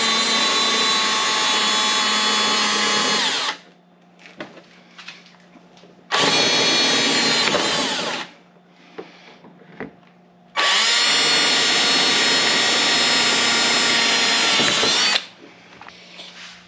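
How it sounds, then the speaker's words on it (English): Power drill with a 1/4 inch bit drilling holes in plastic mud flap panels on a Honda Talon, three loud high-pitched whining bursts of several seconds each, separated by quieter pauses with small clicks and handling noises. "Now is when we start drilling holes in the plastic."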